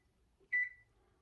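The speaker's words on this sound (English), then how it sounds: "Let me put my timer on." A kitchen timer gives a single short electronic beep as it is set. The beep is close and clear in an otherwise quiet room.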